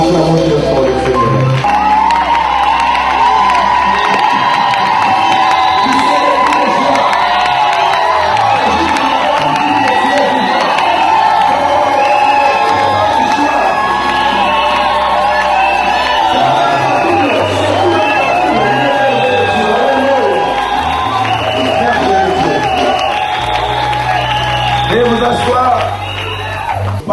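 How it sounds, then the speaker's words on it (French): Church congregation loudly cheering and acclaiming the Lord, a dense sustained roar of shouts and whoops with a voice over the crowd throughout. "Acclamons-le pour le Seigneur"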